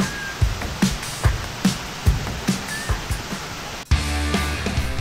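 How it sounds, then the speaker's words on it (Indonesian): Steady rushing water from a jungle waterfall, a broad continuous wash broken by intermittent sharp knocks and thumps, with the texture shifting to a denser, closer roar near the end. "Suara air terjun yang begitu menenangkan pikiran ini"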